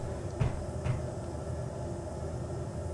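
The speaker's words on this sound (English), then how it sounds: "let's close one of the doors" A door closing in the Space Engineers video game, two soft mechanical thuds about half a second apart over a steady low hum, quiet and without speech.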